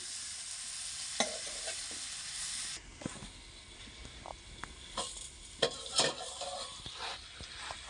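Pumpkin and spices cooking in a covered pan, a soft steady sizzle and hiss with occasional light clinks and stirring scrapes, close and alone.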